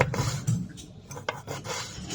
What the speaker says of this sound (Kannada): ಏನು ಆನಿಯನ್ ಕಟ್ ಮಾಡಕತ್ತೀರಿ?